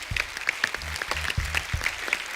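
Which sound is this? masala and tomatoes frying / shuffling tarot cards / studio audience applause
studio audience applause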